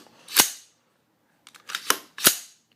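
A rifle charging handle is pulled back and released, giving a sharp metallic snap, a short pause, then a quick sequence of sliding clicks and two crisp metal clacks, close and clean with silence between.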